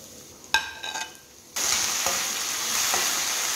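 Capsicum and tomato for barnyard millet pohe go into a pan with a clatter and a few stirring scrapes, then break into a steady, loud sizzle that keeps going to the end.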